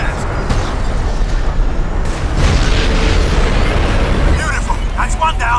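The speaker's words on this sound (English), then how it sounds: "Use the tack cannon! Wax that thing!" TAC cannon blast in the game Crysis: a loud, sustained booming explosion with rolling rumble and debris that stays dense for several seconds, with shouted voices over it.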